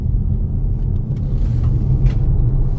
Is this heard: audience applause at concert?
no